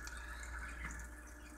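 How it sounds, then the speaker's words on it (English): A Haier HLP23E portable washing machine fills with water, a steady rushing flow with faint trickling running evenly throughout, close and alone. "So we're filling up with water."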